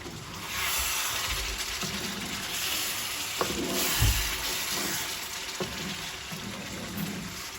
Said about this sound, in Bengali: মাংসটা মাঝে মাঝে নেড়ে দিবেন, না হলে নিচে পুড়ে যাবে।